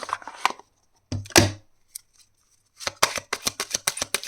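Tarot cards are drawn and handled from a deck in a few short, crisp bursts of card slaps and shuffling, near and quiet, with brief pauses between them and a quicker run of flicks at the end.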